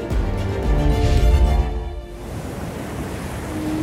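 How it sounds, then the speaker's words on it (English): Ocean surf rolls in a strong wave that swells loud, then breaks and washes into softer hissing foam, with some wind noise across the microphone. "We listen to the ocean."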